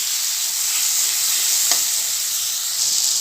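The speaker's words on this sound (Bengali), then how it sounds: "এটা ভালো করে এখন কষাবো" Spiced dried fish curry sautés in a pan with a steady, loud sizzle and hiss that holds evenly throughout, with a faint stir scrape partway through.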